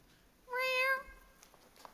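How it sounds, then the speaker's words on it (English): A single clear, drawn-out meow of a cat playing the ship's cat in a stage play, fairly close and alone, followed by faint stage noise. "The cat! The ship's cat!"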